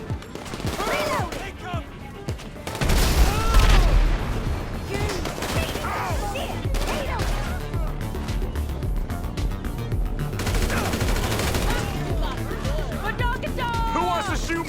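Bursts of automatic and single gunfire ring out in a GTA V Online gunfight with bikers, loud and close, layered over game voices shouting and engine noise, with a heavier crashing peak early on.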